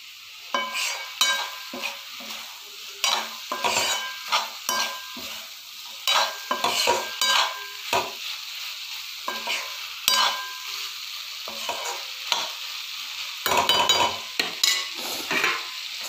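Cauliflower sabzi cooking on a high gas flame, stirred with a utensil in bursts of scraping and clattering against the pan over a steady sizzle, close by.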